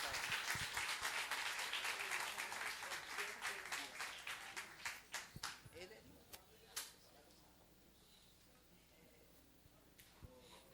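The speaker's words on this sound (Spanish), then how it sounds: "Un aplauso bien fuerte." Church congregation applauding loudly at a Spanish-language service, dense clapping that thins into scattered claps and fades to quiet room tone over about ten seconds.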